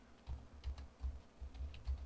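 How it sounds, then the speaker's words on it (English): Quiet, close typing on a computer keyboard: a quick irregular run of soft key clicks, with no voices. "and then we're going to just type in here"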